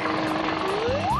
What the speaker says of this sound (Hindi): चलो उस हेलीकॉप्टर को पकड़ें।